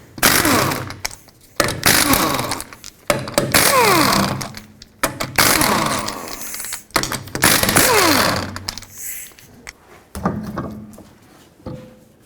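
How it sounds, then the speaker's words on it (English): Work on the rear brakes of a 2005-2010 Pontiac G6: lug nuts are spun off with a 19mm socket, ratcheting in loud bursts broken by clunks, clicks and short pauses as the wheel comes free. "continuing with the 19mm socket, remove the wheel"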